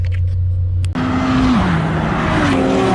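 A Honda Civic Si track-build car driving on local back roads, its engine note rising and shifting through gears close by, with a brief cut before the revving climbs.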